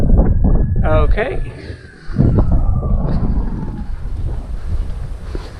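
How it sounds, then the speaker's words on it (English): Wind buffets the microphone on a lakeside trail at Hamilton Lake Domain, a loud continuous rumble that barely dips around the two-second mark, while a person speaks briefly near the start. "you can see it's a bit windy"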